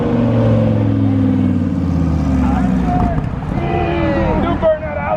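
A modded muscle car does a burnout as it leaves a car show, its loud engine droning and roaring steadily close by while spectators chatter over it.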